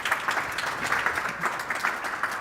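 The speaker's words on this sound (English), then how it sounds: "Let's give them a round of applause." A conference audience at a tourism event gives a round of applause for the panel speakers; brisk, even clapping from a modest crowd, steady and fairly close for the whole stretch.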